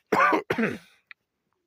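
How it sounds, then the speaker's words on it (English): Two quick, close coughs in a row, followed by a brief tiny click and then silence. "pardon my cough."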